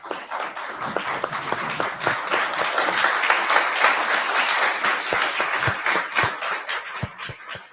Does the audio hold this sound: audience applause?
yes